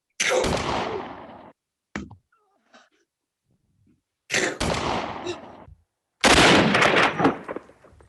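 Gunshot sound effects in a live improvised film noir performance: a loud blast with a long decaying roar, a short sharp crack, then two more booming shots with rumbling tails, separated by near silence.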